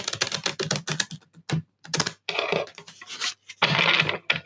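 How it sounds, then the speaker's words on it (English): Rapid clattering riffle of playing cards being shuffled, close up, in several quick bursts separated by short pauses. "I will shuffle the cards"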